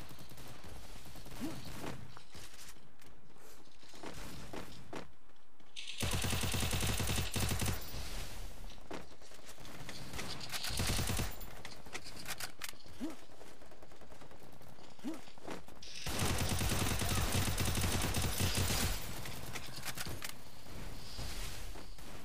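Rapid bursts of automatic gunfire from a Free Fire MAX battle-royale match, dense and loud, with sustained volleys and short gaps between them, no talk over the shooting.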